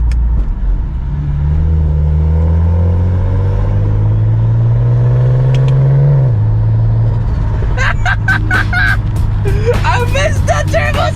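A BMW 335i pulls away under acceleration, its engine note rising steadily and loud over several seconds, then easing, while excited voices and shouts break in near the end.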